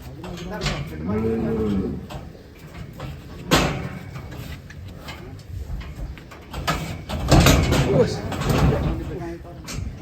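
A calf moos at a cattle contest in the calf class, giving a drawn-out low call early on amid handlers' voices, shuffling and bumps from the pen.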